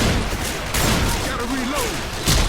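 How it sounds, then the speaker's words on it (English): Shotgun fire in the Left 4 Dead 2 video game, a few loud blasts punctuating dense game noise, with a voice speaking over the action. "Shotgun."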